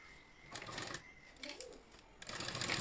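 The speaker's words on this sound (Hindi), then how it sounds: "इस जॉइंट को सीधा रखते हुए सिलाई लगानी स्टार्ट करेंगे" A sewing machine stitches fabric cut from an old saree, whirring in short close bursts with pauses between, faint and fairly quiet overall, while a voice may be faintly present.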